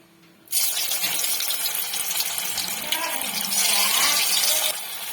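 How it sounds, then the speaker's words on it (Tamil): Soya chunk kola balls drop into hot oil and set off a sudden loud, close sizzle that holds steady and bubbling, then eases slightly near the end; nobody talks over it. "எண்ணெய் நல்லா சூடாயிருச்சு. இப்ப நம்ம ஒரு கோலா உருண்டையா பொறுமையா போட்டு எடுத்துக்கலாம்."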